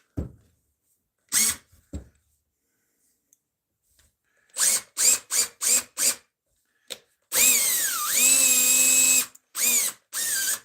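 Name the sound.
drilling a small pilot hole in wood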